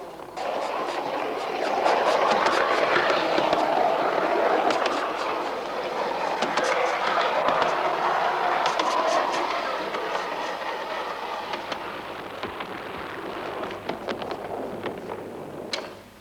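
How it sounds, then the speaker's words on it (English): A model British double-decker tram rumbles along its track, a continuous close clattering roll with rhythmic wheel clicks that swells early and eases toward the end. "let's go back to the good old British double-decker rumbling along and give it another whirl"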